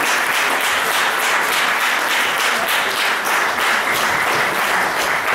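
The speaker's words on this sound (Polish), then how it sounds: "Gorące brawa." Audience applause at a poetry competition awards event, a dense, steady wash of clapping that stays loud and sustained throughout without pause.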